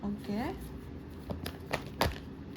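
A deck of tarot cards is briefly shuffled and riffled, giving a few quick, close papery flicks just after a voice speaks.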